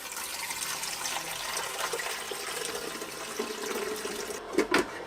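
Water pouring into the reservoir of a Keurig K Elite coffee machine, a steady close trickle that runs alone for several seconds before a few sharper splashes and clunks near the end.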